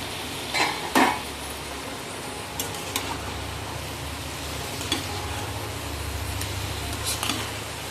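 Crab sticks frying in a pan are turned over with a utensil, bringing a few clanks and scrapes of metal against the pan over a quiet, continuous sizzle.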